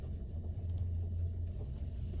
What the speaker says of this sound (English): pulling out of my driveway